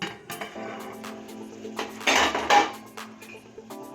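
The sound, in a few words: lid placed on biryani pot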